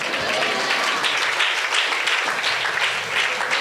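Congregation at a worship service clapping together, a loud, dense and fairly rhythmic burst of applause lasting a few seconds with no speech over it.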